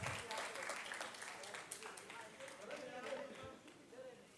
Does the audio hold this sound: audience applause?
yes